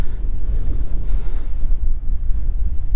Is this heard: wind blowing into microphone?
yes